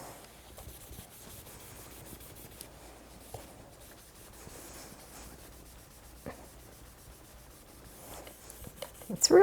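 Scrubbing a clothes iron during cleaning, a soft continuous rubbing and sanding sound that stays fairly quiet and steady with small scratchy bursts, a louder scrape near the end, and no talking.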